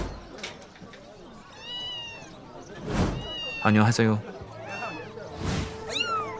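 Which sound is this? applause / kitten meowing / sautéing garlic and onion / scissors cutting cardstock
kitten meowing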